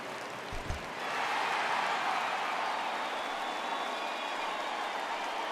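Stadium crowd noise from the baseball video game MLB The Show 20, a broad steady roar swelling after a brief low thump and holding loud throughout.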